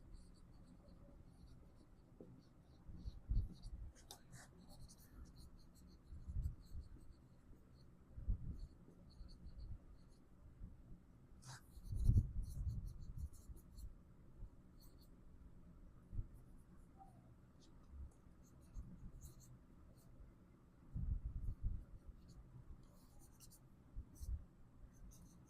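Chalk or marker strokes on a board as chemistry examples are written, soft scratchy bursts scattered through the stretch between quiet pauses, with faint speech.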